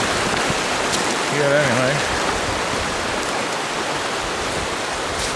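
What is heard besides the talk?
mountain creek flowing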